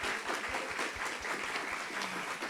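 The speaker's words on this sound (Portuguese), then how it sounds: "peço uma salva de palmas para todos esses professores que estiveram conosco" An audience applauds teachers at a pre-ENEM essay-writing class event, dense steady clapping from many hands that holds at an even level throughout, with no talk over it.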